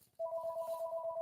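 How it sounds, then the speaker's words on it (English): An old telephone sounds a single steady touch-tone dialing beep, clear and close, lasting about a second. "There's that old phone."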